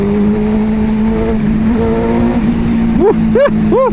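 A Suzuki GSX-R750 motorcycle engine holds a steady drone, then is blipped through three sharp throttle revs near the end, each rising and falling quickly, loud and close with no talking.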